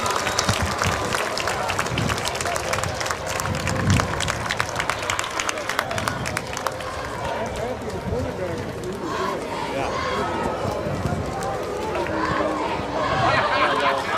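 A large high school football crowd at a Thursday night Millard North game cheers and claps as the home team runs out, dense applause and chatter filling the stadium, rising and falling steadily, with an announcer talking over it.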